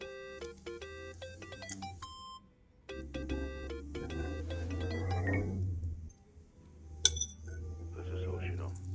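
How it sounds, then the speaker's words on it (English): A mobile phone ringtone in the video game Yakuza: Like a Dragon plays a bright repeating chiming melody, drops out briefly, then rings again beneath a low music bed and background game sounds. "I think that's your phone, man."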